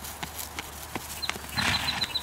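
A horse trotting on a riding lesson, a steady rhythm of clip-clopping hoofbeats close by, with a little rustle of movement and no clear talk.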